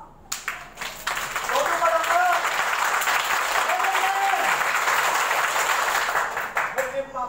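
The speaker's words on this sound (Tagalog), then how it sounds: "Papalakpak nila. Palakpak!" An audience bursts into applause after a few scattered claps, building into a loud, steady round of clapping that fades back into a few separate claps at the end, with some voices under it.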